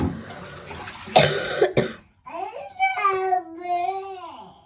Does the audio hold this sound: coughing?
yes